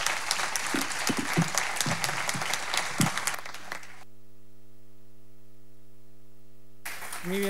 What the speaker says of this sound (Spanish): Yo creo que se merecen un aplauso a nuestros ponentes.